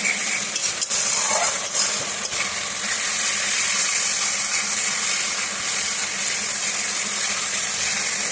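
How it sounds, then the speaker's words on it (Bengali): Tomatoes and raisins sautéed in a spice masala in a pan, a loud continuous sizzle with steady stirring and occasional scrapes of a spoon against the pan. "এবার এটা খুব একটু ভালো করে কষিয়ে নেব"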